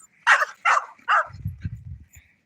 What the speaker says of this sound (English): No barking, or you're going to stay.